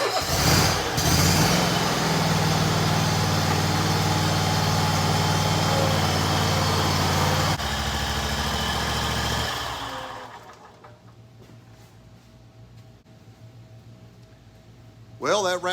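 A Toro zero turn lawnmower engine runs loud and steady, then the sound drops to a quieter idle before cutting low, with a brief burst at the very end; speech is mixed in.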